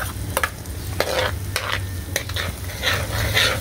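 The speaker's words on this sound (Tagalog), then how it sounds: "At saka magisa na po tayo ng bawang." Garlic sizzling and frying in melted butter in a pan, a loud close crackle broken by sharp scrapes of a utensil stirring it around, without any talk.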